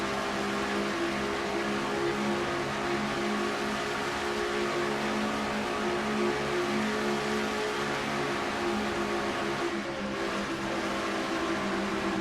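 Race cars roar together in a NASCAR-style racing video game, a steady dense engine drone holding level throughout with no talk.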